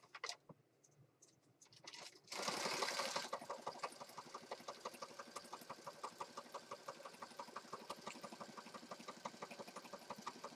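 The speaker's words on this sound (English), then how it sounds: "let's stitch around this" A sewing machine stitches around a junk journal page, starting with a brief louder burst and then settling into a steady, rapid, even run of stitching pulses that stays close and moderately loud with no talk.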